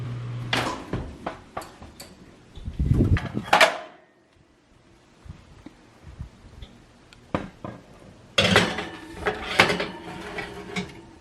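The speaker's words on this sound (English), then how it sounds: "I'm gonna take these, toss them in the oven" Muffin tray pushed one-handed into a home oven: clattering metal knocks and a scrape, a quiet pause, then a burst of banging and rattling as the oven door and rack are handled, close and loud.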